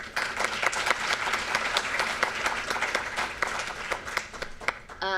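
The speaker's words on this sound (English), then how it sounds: "I'd like for you guys to give them a round of applause, please" An audience at a social entrepreneurship and innovation conference applauds a team, steady dense clapping filling the room from start to finish with no voices over it.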